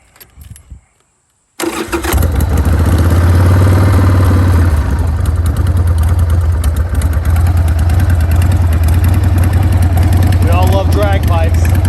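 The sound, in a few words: 1994 Harley-Davidson Sportster 1200 big bore engine starting and idling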